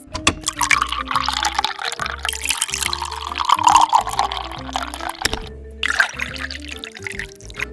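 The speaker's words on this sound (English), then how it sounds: "Then pour water over the rice." Water is poured over rice in a bowl in a miniature kitchen: a steady, close trickle and splash that runs for several seconds beneath soft background music.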